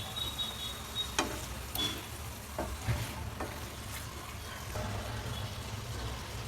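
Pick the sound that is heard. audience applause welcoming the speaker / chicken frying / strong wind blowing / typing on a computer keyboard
chicken frying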